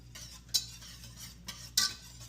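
A whisk works chicken broth into a roux in a pot, producing soft liquid swishing punctuated by a few bright metallic clinks against the pot's side, close up with a low hum underneath.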